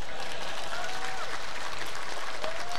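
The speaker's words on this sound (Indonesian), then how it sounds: "lu tepuk tangan sing banter." Audience clapping at a live haul gathering at an Islamic boarding school, a dense steady wash of many hands throughout, fairly loud and continuous.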